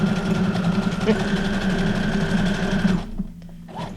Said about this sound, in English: I've been having fun with my sewing machine.